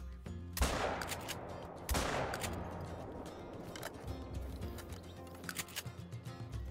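Rifle shots in the hunting video game Call of the Wild: two sharp close reports about a second apart, each trailing into a fading echo, followed by quieter scattered crackles.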